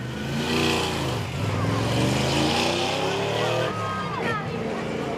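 Muscle car engine revving at Midvale Speedway during a heat race, a loud, harmonically rich roar that rises and falls as it accelerates, with a race announcer talking over it.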